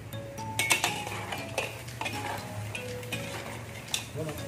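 Crab simmering in coconut milk with squash in a pot, stirred with a utensil that clinks and scrapes against the metal in quick irregular strokes over a low bubbling hiss.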